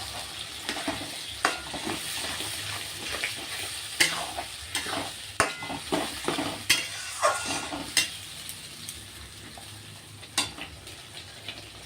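Onion and garlic fry in a pan as a utensil stirs and scrapes in quick irregular strokes, with sharp clinks over a continuous sizzle; the sound is close and alone.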